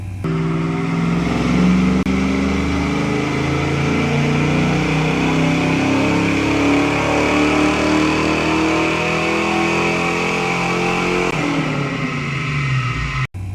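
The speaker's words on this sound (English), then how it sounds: "It sounds great. Healthy motor, ported E7 heads, ported GT40 intake" A Ford Fox-body Mustang V8 with ported E7 heads, a ported GT40 intake and Crane valve springs runs steadily at a strong, even idle, loud and close, with a slight dip near the end and no speech.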